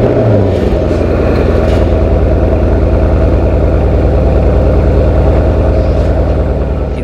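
A 2014 Porsche Panamera Turbo engine cranks and catches with a brief flare, then settles into a loud, deep, steady idle close by.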